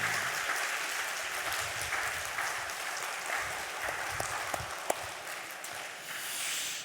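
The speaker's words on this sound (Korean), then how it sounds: "옆에 분 바라보며 하나님 감동 받으시도록 박수 한번 하도록 하겠습니다." A church congregation at a Sunday service claps together, a broad, sustained burst of many hands with a few sharper claps standing out, fading slightly near the end.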